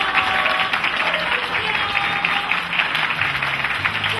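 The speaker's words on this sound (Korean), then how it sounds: "수산들과 하이디어 여러분 큰 박수 해주십시오" Loud, steady applause from a large crowd at a competition final, sustained and dense throughout, ending abruptly.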